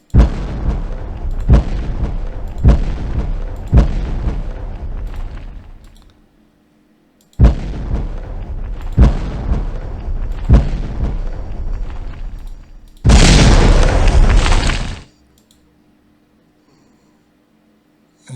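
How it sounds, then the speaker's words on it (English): Repeated booming explosion effects from a Unity 3D space shooter game, several heavy blasts in quick rhythm, then a second volley ending in a loud sustained roar before silence, with no talk. "Complete with sound effects. And I love the way it applies explosion force to that wall of cubes."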